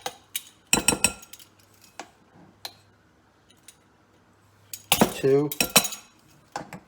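A teaspoon scooping relish for a Big Mac replica, sharp metallic clinks and scrapes against a container in a few separate bursts, with a brief spoken count in between.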